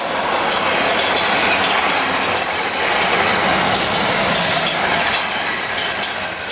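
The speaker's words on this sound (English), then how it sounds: "609 and 638 work this Coatbridge to Crewe liner at Crawford." Two Freightliner Class 86 electric locomotives, 609 and 638, haul a Coatbridge to Crewe container liner past Crawford in a loud, continuous close rumble with wheel clatter and faint squeals.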